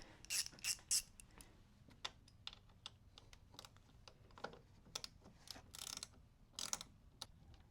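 A ratchet loosens a 10mm bolt on the battery terminal of an E210 Toyota Corolla, giving faint, irregular clicking in short clusters against a quiet background, with no talking.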